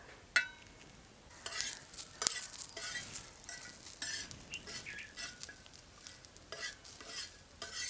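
Grated coconut and onion masala is stirred and roasted in oil, with a steady close sizzle and the repeated scrape of a spatula against the pan.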